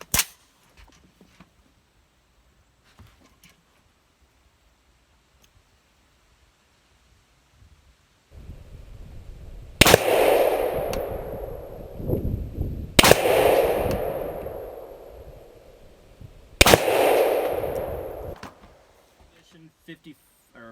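An Mk18 rifle firing Freedom Munition M855 ammunition: three sharp, loud shots spaced a few seconds apart, each followed by a long rumbling decay, after a stretch of near silence with faint handling clicks.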